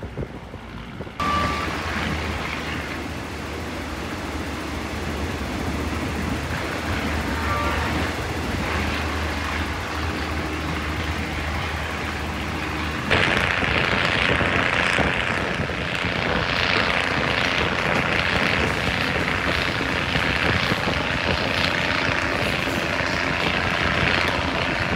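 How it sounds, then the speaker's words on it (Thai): The engine of a 50-year-old passenger train roars loudly as it accelerates up a steep grade, a constant heavy drone that grows louder and brighter partway through and keeps going without talk. "เครื่องยนต์ค่อนข้างดังมากท่านผู้ชม"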